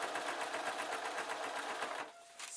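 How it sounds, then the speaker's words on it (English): A sewing machine runs continuously, stitching fabric jester slippers with a fast, even whirring rhythm close by, then briefly stops near the end. "sewing and tucking as I go"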